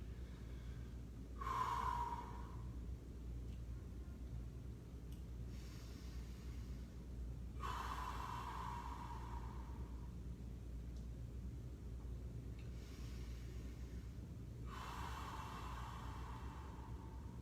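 Slow, deep yoga breaths, three long audible inhale-exhale cycles several seconds apart, airy and fairly close over a steady background hiss.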